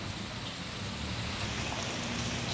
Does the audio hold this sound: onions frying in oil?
no